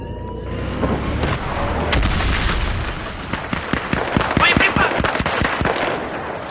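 USAS-12 automatic shotgun fired in a multiplayer video game match, with rapid, loud bursts of blasts crowding the second half amid game noise and background rumble, and voices faintly present.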